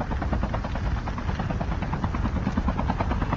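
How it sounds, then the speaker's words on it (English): A helicopter in a military shooter video game thumps with a steady, rapid rotor beat and engine whine, loud and close throughout with no talk over it. "You need a chopper."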